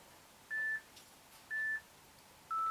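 An exercise timer gives three short, identical electronic beeps spaced about a second apart, a countdown pattern with the last tone slightly lower, clear over a faint hiss and no talking.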